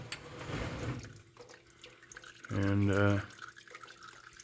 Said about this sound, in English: I'm going to just let her drain until it stops draining